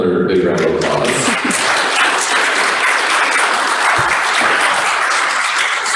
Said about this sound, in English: can we give her another big round of applause?